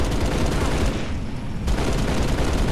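Dense gunfire rattles in the Halo: Reach video game DayZ mode, a loud continuous fusillade of rapid shots filling the short stretch, with a voice talking over it.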